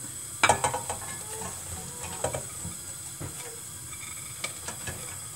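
Onion frying in a pan for chicken pastilla gives a soft, low hiss, broken by several sharp clinks and scrapes of a utensil against the pan.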